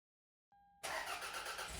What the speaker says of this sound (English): I started the engine to check the exhaust pipe for leaks.